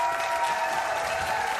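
Dense applause from a television studio audience after a Tap Dogs dance troupe performance, a steady unbroken wash of clapping hands at even volume that fills the whole moment with no voices on top.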